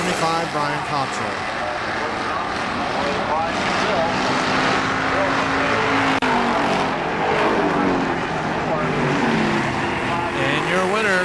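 Race cars roar around the KilKare Speedway oval, car 75 leading, in a loud, unbroken engine wail with pitches rising and falling as cars pass, while an announcer talks over the PA.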